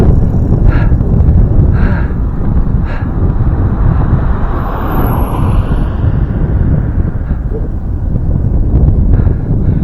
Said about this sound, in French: le vent souffle fort, on le prend pleine face